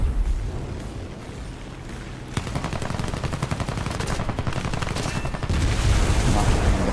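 Aircraft machine guns fire in War Thunder, bursts of rapid cracking shots starting after a quieter engine drone and continuing in dense rattling volleys, with no talk over them.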